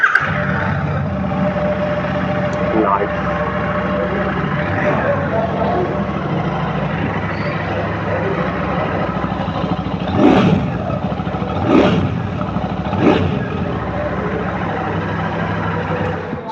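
A Royal Enfield Classic 650 motorcycle with its 650cc engine idles with a steady, smooth bass exhaust burble, then is revved sharply three times in quick succession near the end.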